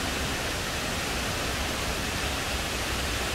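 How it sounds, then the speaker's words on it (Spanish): Misol Ha waterfall pours over limestone cliffs roughly thirty metres high, a dense, continuous roar of falling water heard close and steady with no voices. "Ya llegamos aquí a este cantil de rocas o acantilados de rocas calcáreas que dan origen a esta enorme cascada"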